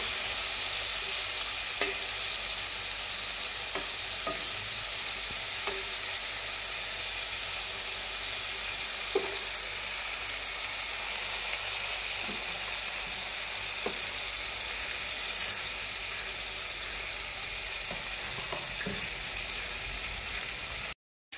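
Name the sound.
eggplant slices frying in oil in a wok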